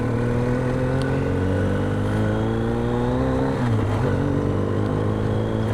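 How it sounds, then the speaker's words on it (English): A car approaches and passes close by on a road, its engine drone rising and then shifting pitch as it goes past, steady and fairly loud throughout. "Car coming."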